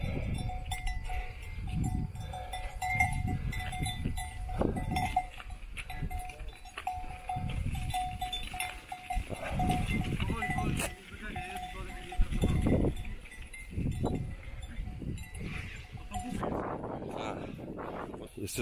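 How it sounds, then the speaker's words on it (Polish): A flock of sheep being driven toward a barn on a farm in Republika Srpska, with cowbell-like clanks, scattered bleats and shuffling hooves moving continuously beneath people talking nearby. "Widzicie te owce?"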